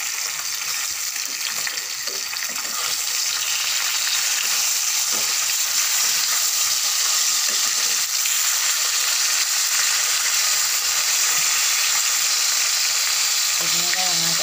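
Rohu fish head sizzles steadily in hot oil in a pan, a loud continuous frying hiss with occasional scraping as it is stirred, no voices.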